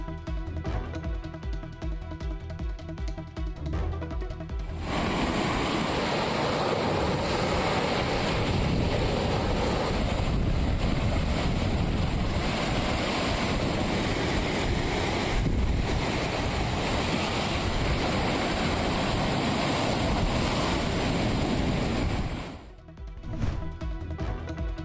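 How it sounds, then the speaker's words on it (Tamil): Rough sea at Rameswaram, with heavy surf crashing continuously under strong wind buffeting the microphone, loud and close, after a short stretch of music and before it cuts out near the end. "ராமேஸ்வரத்தில் கடல் சீற்றம்"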